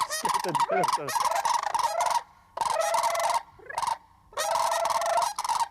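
Free-flying turkeys or similar fowl gobble loudly in repeated bursts close by at a landing spot near an ultralight pilot, with short gaps between calls.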